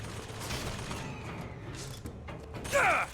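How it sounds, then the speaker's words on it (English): Gunfire in the video game Bioshock Infinite, with mechanical creaks and a burst of sharp shots near the end over a steady game soundscape. "Stop shooting me."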